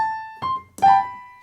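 A few sustained piano notes from Mozart's Turkish March: a held tone, then two more struck notes stepping upward, each ringing out clearly with no voices.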